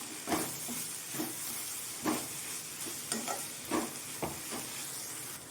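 Drumstick leaves fry with grated coconut in a pan as they are stirred, a soft hiss punctuated by rhythmic scraping strokes about every second, close and fairly quiet, without speech.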